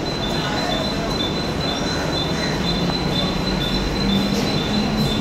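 A crowded Mumbai local train runs loud and close, with a constant rumbling roar, a sustained high metallic whine and squealing wheel tones rising near the end.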